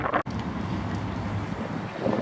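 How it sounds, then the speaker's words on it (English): Strong wind buffets the microphone while cycling near the Ottawa River in Ottawa, a continuous roaring rumble with brief gusty dropouts. "The sun looks deceptive, but it's a wind tunnel."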